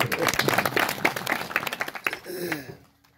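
Audience clapping at a kirtan gathering, a short burst of scattered hand claps mixed with crowd voices, fading out at the end.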